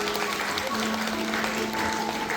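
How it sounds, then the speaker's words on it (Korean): Wedding guests applauding during a Korean wedding ceremony, a dense steady patter of clapping with faint background murmur and a few sustained tones underneath. "박수 한번 크게 부탁드리겠습니다"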